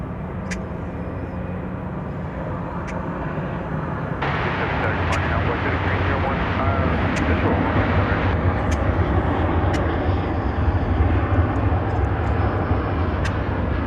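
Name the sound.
American Airlines plane departing, DFW Airport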